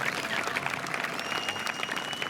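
Audience applause at a gathering in Nakivale, a steady wash of clapping hands lasting the whole moment, with a faint tonal whine running beneath.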